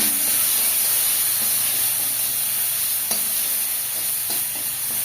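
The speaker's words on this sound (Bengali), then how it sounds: "এবার এটাকে ভালো করে কষিয়ে নেব" Mung dal sizzles steadily in a pan with a little oil, cumin paste, ginger paste and chili paste, a close, even frying hiss with occasional faint scrapes of stirring.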